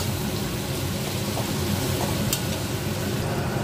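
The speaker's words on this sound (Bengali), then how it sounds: "ভালো করে মশলাগুলো দিয়ে ভেজে নেব।" Spices with Kashmiri chili powder fry in a pan for prawn masala, giving a constant dense sizzle with soft stirring scrapes throughout, close and fairly loud, with no talking.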